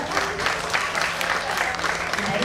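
Audience applause for a father at a family gathering, steady broadband clapping throughout with a faint murmur of voices underneath.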